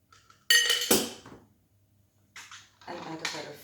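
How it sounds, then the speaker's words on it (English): Whiskey cocktail for a Presbyterian poured over into a glass, heard as a few close clinks and splashy bursts of glass and liquid, with quiet pauses between. "Pour it over."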